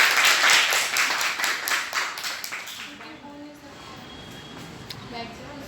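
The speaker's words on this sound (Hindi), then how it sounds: "ताली बजाओ ना जोर से।" School students clapping together in a classroom during a meditation session, loud rhythmic bursts of applause that fade away after about three seconds, followed by quieter room sound.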